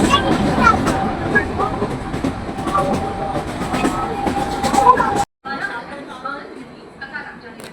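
A Mumbai local train runs from Kalyan Junction with a loud, steady rumble and clattering of the carriages, and passengers chatter over it before the noise cuts out briefly and returns more quietly.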